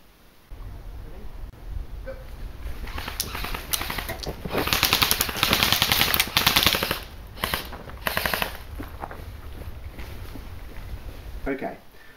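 Special forces training gunfire, rapid automatic bursts and sharp shots crackling at mid distance, dense in the middle and tapering to scattered reports, with voices and background noise mixed in.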